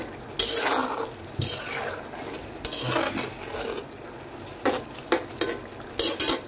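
Chorchori, a vegetable dish, frying in plenty of oil while a spoon scrapes and clanks against the pan in repeated strokes over a constant close sizzle, with no talking.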